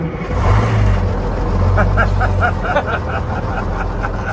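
A retired fire truck's engine runs with a loud, close, deep rumble. The steady low throb has faint rhythmic knocking over it, with no talking.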